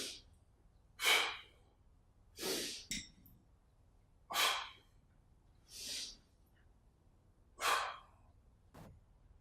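Slow, deliberate breaths through the nose during a steel mace exercise, about six airy inhale and exhale bursts in a steady rhythm, close and quiet, with no talk.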